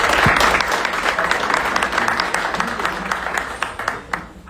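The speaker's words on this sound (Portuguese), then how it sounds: "Uma salva de palmas para ele." An audience at a literary academy ceremony claps steadily, a dense wash of applause that gradually thins toward the end, with faint voices mixed in underneath.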